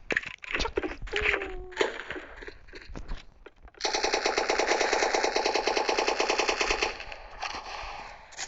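Rapid automatic gunfire in a video game, first as scattered loud bursts mixed with sharp cracks, then as a long sustained stream of close, dense shots lasting several seconds before it thins into lighter popping.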